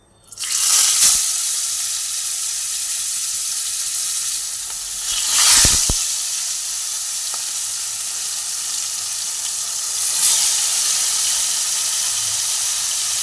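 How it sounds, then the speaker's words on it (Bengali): Koi fish sizzle loudly as they fry in hot oil in a wok, a steady crackling hiss with bursts of spitting when each fish is dropped in, continuing alone without speech. "এবার মাছগুলোকে এক এক করে ছেড়ে দেবো, মাছগুলোকে একটু ভেজে নেব।"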